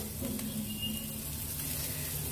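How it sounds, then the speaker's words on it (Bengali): Eggs sautéed lightly with salt in a pan give a soft, steady sizzle, faint and continuous with no talk over it. "খুব বেশি ভাজার দরকার নেই, এটা সটে করার মতো করে দিলাম।"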